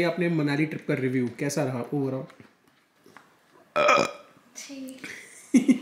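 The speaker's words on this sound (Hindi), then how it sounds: "मैंने डकार मारी तो छी," A person lets out one loud, throaty burp in a quiet gap after a stretch of conversation, and talking resumes right after it.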